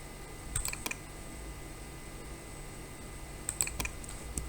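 Two short flurries of clicky keystrokes on a computer keyboard, the final tap of each landing like an Enter press, separated by a quiet pause with faint background hiss.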